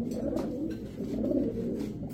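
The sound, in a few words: female pigeon cooing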